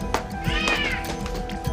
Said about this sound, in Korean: 새끼 울음소리는 커지고 있는데 어미는 그저 바라볼 수밖에 없다.